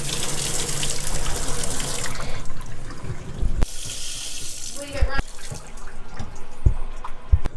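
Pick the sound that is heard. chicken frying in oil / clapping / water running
water running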